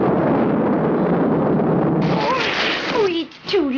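A missile launches in a Super 6 cartoon with a loud, dense roaring rush that holds for about two seconds, then continues under voices and fades.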